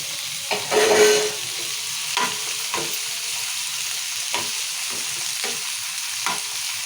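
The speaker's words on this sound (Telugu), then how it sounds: "టమాటాలు కూడా వేస్తున్నా టమాటాలు కూడా నూనె ఉడకాలి" Tomatoes and onions frying in oil for a spinach dal tempering, a steady soft sizzle with occasional stirring scrapes and clinks, close and moderately quiet.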